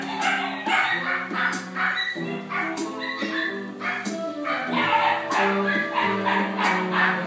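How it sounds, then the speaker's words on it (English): A Rottweiler barks repeatedly in close, loud, steady woofs mixed with whiny yips throughout. "How about a ferocious Christmas Rottweiler?"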